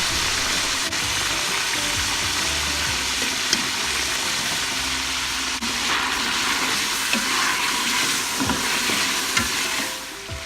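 Mutton fries with salt, chilli and turmeric in a hot pan, a steady close sizzle with occasional stirring scrapes running throughout.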